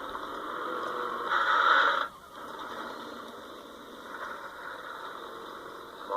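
A truck engine climbing a hill in the off-road driving game Spintires, a steady mid-pitched drone that swells for a moment, dips sharply, then settles into a lower even hum.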